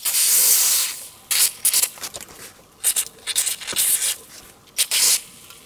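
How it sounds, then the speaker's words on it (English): Penetrating solvent sprayed onto the front sway bar bushing bolts of a DeLorean, heard as a string of short, sharp hissing bursts with brief pauses between them, close by. "You can also use some penetrating solvent on the bolts that are holding up the bushings right here in the front of the sway bar"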